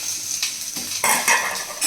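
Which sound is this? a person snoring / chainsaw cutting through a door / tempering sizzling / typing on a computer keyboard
tempering sizzling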